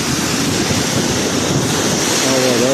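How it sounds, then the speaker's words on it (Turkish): Strong wind blows in from the Bosphorus during heavy rain, a loud, steady roar of gusts and rain battering the microphone that fills the whole moment, with a voice beginning at the very end. "Rüzgar Boğaz'dan doğru esiyor."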